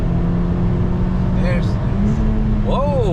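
A 1989 Honda Civic Si hatchback with a B16A engine accelerates hard, its steady engine drone rising in pitch near the end, loud and close with people talking over it.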